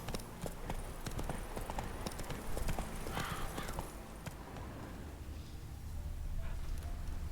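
Hoofbeats of the horse Roach galloping in The Witcher 3, a steady rapid clip-clop running throughout, fairly close, over game ambience with no talk.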